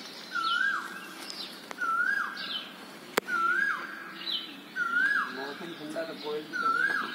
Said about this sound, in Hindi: कितनी अच्छी आवाज़ आ रही है कोयल की, देखो।